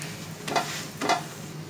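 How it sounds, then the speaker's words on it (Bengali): Aloo paratha browning in oil in a pan, a soft continuous sizzle with two brief louder hisses as it is pressed or flipped, fairly quiet and without voices. "দেখুন এইভাবে একটু লালচে করে ভেজে নেব"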